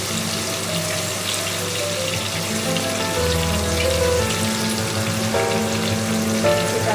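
Water poured into a hot pan of spiced cabbage for a cabbage rezala curry, a steady dense sizzle and bubbling hiss that continues close and loud for the whole stretch, with no talking.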